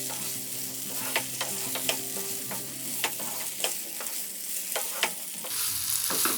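Stuffed brinjal with masala sautéing in a pan, a steady close sizzle broken by sharp scraping clicks of a spatula stirring at irregular intervals, with no voices.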